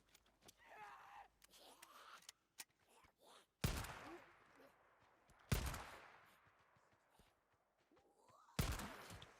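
Gunfire rings out in the video game Days Gone as a few loud, separate shots with sharp attacks and decaying tails. Quieter game sounds and faint voices fill the gaps between them.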